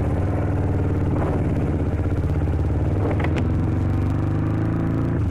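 A motorcycle fitted with a Proliner exhaust and DB Killer revs loudly and close, a dense steady rumbling roar with throttle blips, alone without talk.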